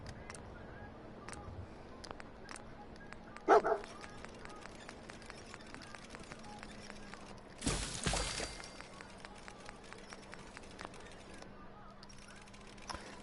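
Dogmeat, the dog companion in the video game Fallout 4, gives a short bark, then a louder, harsher outburst later, over a steady low hum of in-game background noise.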